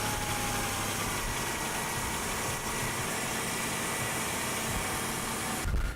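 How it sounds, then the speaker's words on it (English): A car engine idles steadily during a cooling system flush, a continuous low rumble and hum that holds constant throughout, with a brief louder burst at the very end. "I'll start the engine up"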